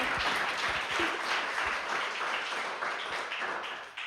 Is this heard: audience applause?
yes